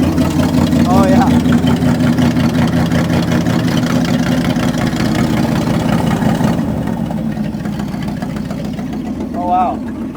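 An old C60 Viking engine idling steadily after 40 years out of use, a loud, close, even mid-pitched running drone that eases slightly toward the end, with voices talking over it.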